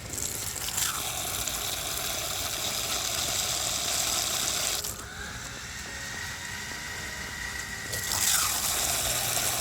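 Water splashes onto a radio-controlled car fitted with cooling fans, a broad hiss and gush in two long bursts. A brief quieter stretch separates them, with a whirring motor underneath.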